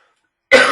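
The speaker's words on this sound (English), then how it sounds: "Excuse my cough." A single sharp cough bursts out after half a second of silence, close and loud, with a short throaty rasp trailing off, no other talk around it.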